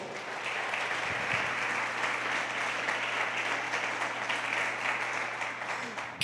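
A church congregation applauds during a sermon, a steady dense roar of many hands clapping that stays loud and even throughout, with a low hum underneath.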